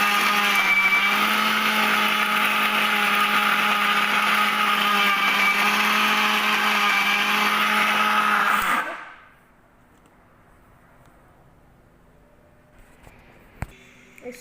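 A small mixer grinder jar pulverises dried tamarind into powder with a loud, steady high whine that runs for about nine seconds, then winds down and stops, leaving near silence and a faint click.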